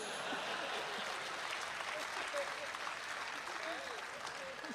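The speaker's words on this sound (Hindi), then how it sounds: "और अब आपकी तालियां उठेंगी।" Audience at a Hindi poetry recital (kavi sammelan) applauding steadily, a dense, even wash of clapping that holds for the whole stretch at moderate distance with no voice over it.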